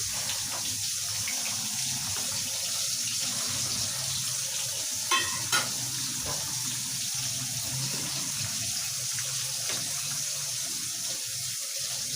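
Pre-fried koi fish (climbing perch) go into a pan with sliced green chilies and cook with a steady, close sizzle and soft watery hiss. There is no talking.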